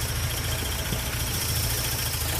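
A car engine fitted with a brand new fuel pressure regulator, just started and running at a steady idle, its low continuous rumble heard close and alone with no talking.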